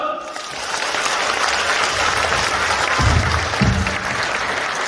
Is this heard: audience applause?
yes